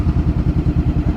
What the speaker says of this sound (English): Oh, I hate reversing bike.